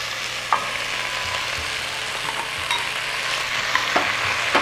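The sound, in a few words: onions frying and being stirred in a pot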